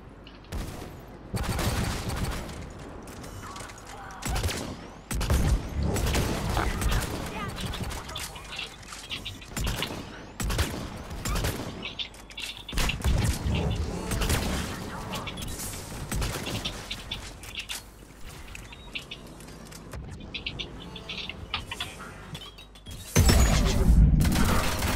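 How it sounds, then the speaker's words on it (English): Sniper rifle fire in cooperative Mass Effect 3 combat, with loud shots and bursts cracking out at irregular intervals over busy battle noise and a hard, heavy hit near the end. "Let's go for a sniper barrage."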